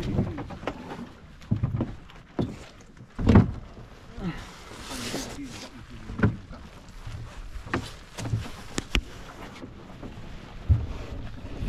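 A boat crossing the lake from Trunyan village in Bali makes intermittent knocks, water splashes and wind buffeting against a low rumbling background, with faint voices now and then.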